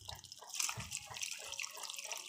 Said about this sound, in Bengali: এবার আমি জল দিয়ে দিই।